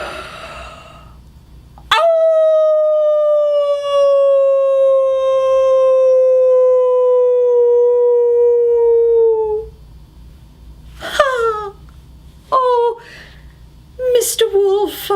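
A man imitates a wolf's howl to call in sheep, voicing one long, loud, wavering howl that slowly falls in pitch. Several short yelping cries follow it, close to the listener.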